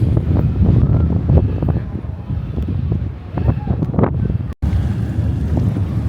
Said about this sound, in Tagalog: nakasakay tayo ng ferry